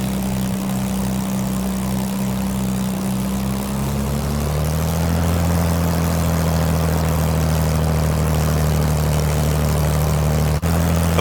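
Propeller aircraft flying east along the coast past Shoreham Airport, a loud steady engine drone with a constant low hum that shifts slightly in pitch partway through, continuous with no talking.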